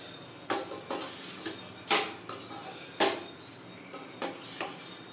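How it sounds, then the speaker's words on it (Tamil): A spoon stirs Kolli hills natural mushroom fry with mixed spice powders in a metal pan. Distinct clanks and scrapes come every half second or so, with a few louder knocks against the pan over a low background. "நல்லா கிண்டி விடுறோம்."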